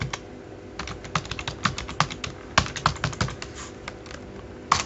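Keys clatter on a computer keyboard, a quick uneven run of close, crisp clicks with brief pauses, alone without talk.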